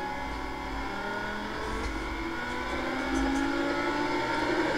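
A race car engine accelerates in the Gran Turismo 7 video game on the Deep Forest track, a continuous loud drone that climbs steadily in pitch, with no talking.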